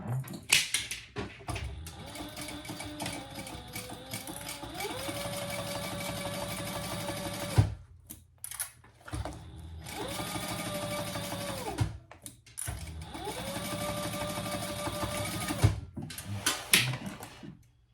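A sewing machine stitches a zipper pocket closed on a small fabric sling pouch, running in three long whirring bursts separated by short pauses, close and fairly loud.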